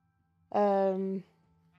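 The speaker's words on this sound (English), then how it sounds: "Sheep!" A sheep bleats once, a single loud, close, drawn-out call lasting under a second, with quiet background before and after.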